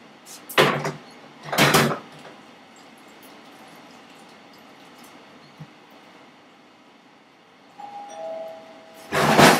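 A doorbell rings three times in a home kitchen, with long, bright two-tone chimes at the start, a second ring soon after, and a third near the end. Faint background noise and a short tone sit between the rings, and no one speaks.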